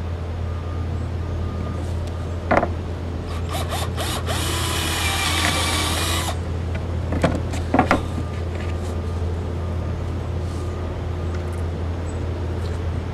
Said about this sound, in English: go ahead and drill your hole right there